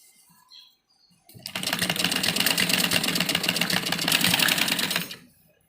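A sewing machine stitches a printed suit in one steady, rapid whirring run of about four seconds, starting and stopping abruptly against near silence.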